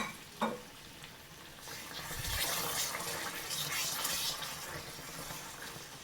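Hot water is poured into spicy quail egg pickle gravy simmering in a pan, a rising hiss and sizzle with a bubbling gush after a brief clink.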